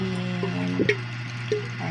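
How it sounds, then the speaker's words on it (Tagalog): Water pours into a pot of sweet potatoes, a close trickle with a few drips and splashes over a steady background hum. "tapos lalagyan natin ng tubig para isa lang na natin"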